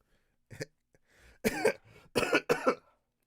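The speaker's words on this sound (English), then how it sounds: "Why am I still coughing?" A run of harsh, close coughs in quick bursts, a few small ones first and then three heavier hacking coughs with throat clearing.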